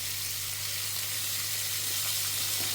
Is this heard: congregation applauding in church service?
no